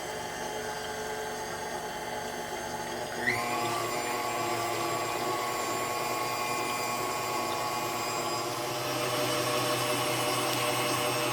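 An electric mixer whisks eggs toward a frothy consistency, a steady close motor whir that runs throughout and shifts pitch upward a few seconds in as the speed changes.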